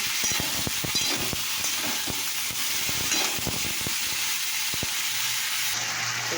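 Food fries in a pan with a dense continuous sizzle and hiss, punctuated by frequent quick clicks and scrapes of stirring, close and steady throughout with no speech.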